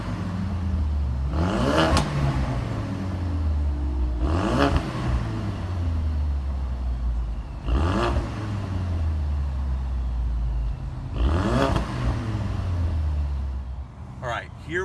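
Ford Focus RS with a 2.3 liter engine revving in four strong bursts, each climbing and falling back, loud and close over a steady idle.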